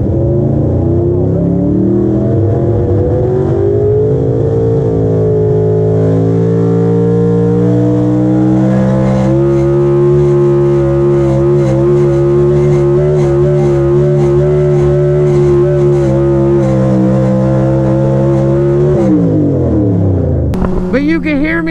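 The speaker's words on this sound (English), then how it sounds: "you can hear me get into the throttle around 150 foot, the last like quarter of the throttle" A truck engine revving at full throttle during a sled pull, a loud, sustained, rising roar with strong steady harmonics that climbs for about nineteen seconds, then drops off abruptly near the end.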